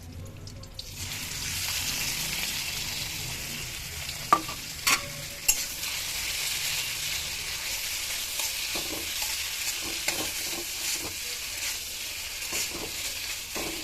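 Leftover cabbage curry reheats in a pan with a soft, steady sizzle, and a utensil stirs it with several sharp scrapes and knocks against the pan.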